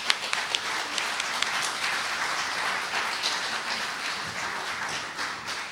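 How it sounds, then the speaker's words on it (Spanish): Dense, steady applause from a seminar audience for a panel of speakers, a continuous close wash of many hands clapping that holds evenly throughout without talk. "Les pido un aplauso para las panelistas."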